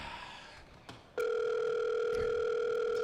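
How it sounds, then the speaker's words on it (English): A telephone sounds a steady, continuous electronic tone that starts abruptly after faint background noise and holds loud and unbroken, with no talking. "Okay, there's a phone."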